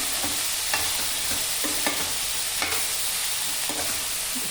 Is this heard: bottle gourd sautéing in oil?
yes